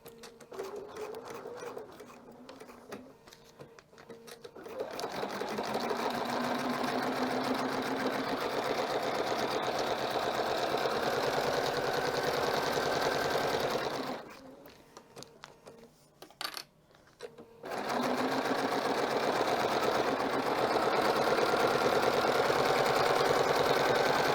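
A sewing machine stitches a fabric cover for thread spool racks, running in a steady rapid close-up whir for several seconds, stopping briefly, then starting up again.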